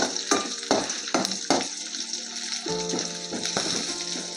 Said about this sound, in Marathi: आता आपण तुरीचे दाणे टाकून घेऊया